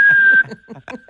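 A human voice imitates a hearing aid's feedback whistle with a steady, piercing high tone lasting under half a second, followed by a few short laughing or breathy vocal bursts.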